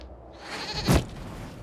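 A goat in Dragon Age: Inquisition gives a single bleat, loud and close, rising to a sharp peak near the end of the call with no talk over it.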